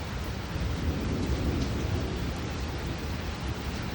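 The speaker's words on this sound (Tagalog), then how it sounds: "Kulog at kidlat." Thunderstorm in Edmonton, Alberta, heard as a steady, broad low rumble of thunder mixed with rain noise, continuous and moderately loud throughout with no talking.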